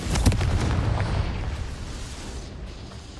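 A Confringo blasting spell explodes in the video game Hogwarts Legacy, one loud, close boom that rumbles and fades slowly over a few seconds.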